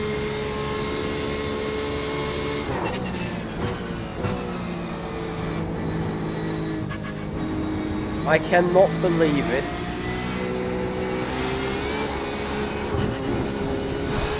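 Porsche 911 RSR race car in iRacing at Spa-Francorchamps, its engine holding a steady droning tone with a brief burst of rising and falling revs midway, heard under someone talking excitedly.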